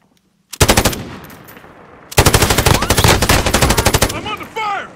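Sustained bursts of M249 light machine gun fire in the shooter game Modern Warfare, loud and close, with a short burst followed by a pause and then a longer rapid stream of shots, and some faint in-game voice or effects near the end.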